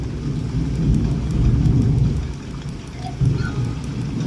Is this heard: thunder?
yes